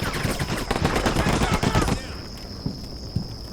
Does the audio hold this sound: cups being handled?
no